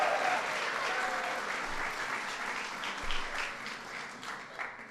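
Steady, dense applause from a reception crowd at an LGBT Pride Month event, continuous clapping at even loudness from start to finish.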